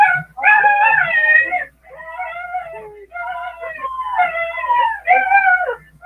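A group of loud puppies yips and howls in overlapping, quavering cries that rise and fall nearly without pause, close up, with a person's voice faintly in the background.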